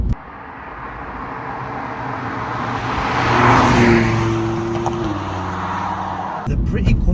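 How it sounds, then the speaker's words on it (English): Steady broadband tyre roar from Goodyear Eagle F1 Supersport tyres on a car driving along a rough road, a continuous close drone with a low engine hum underneath, swelling slightly midway before a brief clunk near the end. "So you do hear a lot of like tyre noise"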